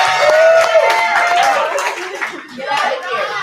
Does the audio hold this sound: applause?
yes